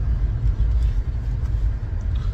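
Steady low rumble from inside a moving car, engine and road noise droning evenly and loudly throughout with no distinct events.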